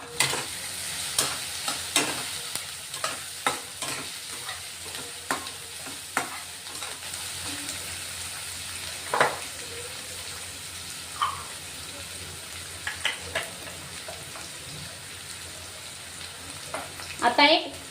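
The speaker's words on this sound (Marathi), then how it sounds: "कांदा हिरवी मिरची टाकून घेतली बघा" Chopped onion and green chillies fry in a pan for a spicy fenugreek-leaf dish, giving a soft continuous sizzle broken by repeated scraping stirs, fairly close and quiet, with no voices.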